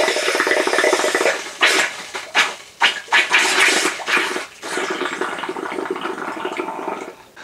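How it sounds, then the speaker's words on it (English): Water gurgling and spluttering out of a drained plumbing pipe, with irregular bursts and sputters as air pushes through, then a rougher steady rush. "you will hear a definite difference between the water coming out and then the air"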